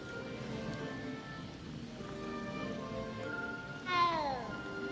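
A cat meows in the video game Hogwarts Legacy, one clear rising-then-falling meow near the end over a low steady ambient background, with faint tonal game sounds earlier.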